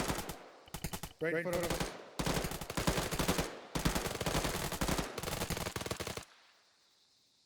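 Suppressive gunfire during a military breach training drill: sustained bursts of rapid automatic fire, loud and close, in several long volleys with brief gaps, a voice speaking briefly amid the shooting before the firing stops and fades out.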